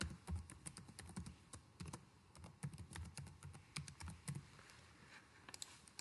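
Keys on a computer keyboard are tapped in short, quick bursts with brief pauses while a registration form is filled in. The taps sound close and fairly soft, with no talking.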